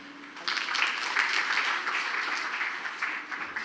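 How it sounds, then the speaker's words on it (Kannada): A church audience at a Christmas celebration applauds, a moderate burst of many hands clapping together that swells quickly and holds steady for several seconds before tapering slightly, heard from within the room. "ಜೋರಾಗಿ ಚಪ್ಪಾಳೆ ತಟ್ಟನ."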